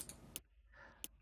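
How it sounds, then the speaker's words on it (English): Soft mouse-click sound effects play in the menu of the game Keysight 2: a few quiet, crisp clicks spaced irregularly over a faint, hissy background. "You may have also noticed that when I'm clicking buttons,"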